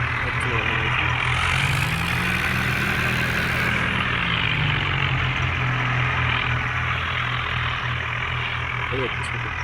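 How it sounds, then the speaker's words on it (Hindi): A Swaraj tractor engine runs with a steady, loud low rumble throughout, with a passing rise in pitch partway through and no break in the drone. "ये अच्छा लगा ट्रैक्टर"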